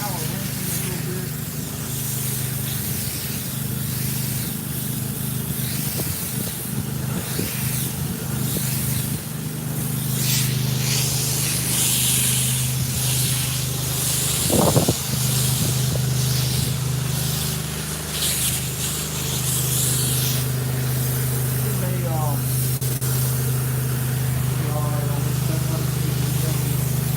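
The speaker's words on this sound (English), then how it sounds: "Just kind of power rinsing a little bit." Pressure washer power rinsing the exterior of a large house, a steady loud spray hiss held on continuously with the trigger pulled, running under intermittent talk.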